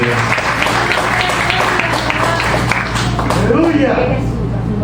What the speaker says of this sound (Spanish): Den un aplauso a Jesucristo fuerte